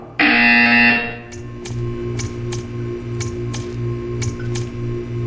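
A loud, harsh electronic buzzer blares for about a second, then a rhythmic ticking and low pulsing hum follow in a quieter room.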